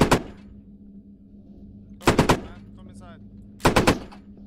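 Gunfire in the Squad video game: three separate loud bursts of automatic fire, spaced about two seconds apart, over a low steady hum.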